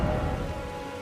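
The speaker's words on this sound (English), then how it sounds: "let's take a look at the raindrops that you can see falling" Rain falls in the video game Elden Ring, a steady dense patter and hiss heard alone and fairly loud throughout.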